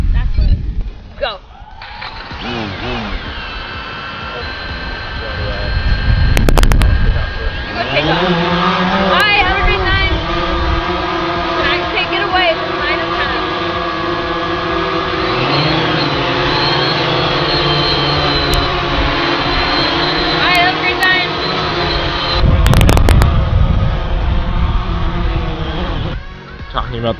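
DJI Phantom 4, Phantom 3 and Blade Chroma drones flying together outdoors, a steady loud propeller whine and buzz with shifting pitch over the full span, with people talking over it and occasional wind bursts.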